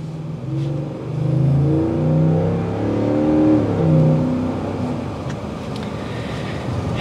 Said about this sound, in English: you can hear that throaty exhaust note